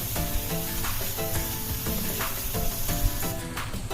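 Curd being stirred into food cooking in a pan, with a dense crackling sizzle and rhythmic scraping strokes close by. Steady and fairly loud, with no voices.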